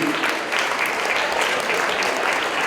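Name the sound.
audience applause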